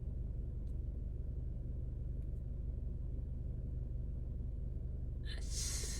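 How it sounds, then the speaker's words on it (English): A car engine rumbles low and steady close by while revving, a constant deep drone, with a brief hiss rising near the end. "Can you guys hear my engine revving?"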